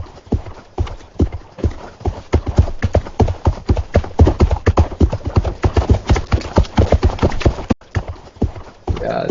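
AI-generated horse sounds from a world-model output: steady rapid hoof clip-clops, loud and close, running continuously throughout with a brief whinny-like texture and no talking.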